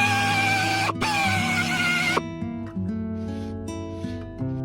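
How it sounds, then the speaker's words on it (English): An angle grinder works the bulging surface of a Skoda Yeti clutch part, a close, loud whine in short bursts whose pitch jumps and shifts as it bites into the metal, harsh at first and then a cleaner tone. "Now I need to grind this bulging surface before I put the clutch back"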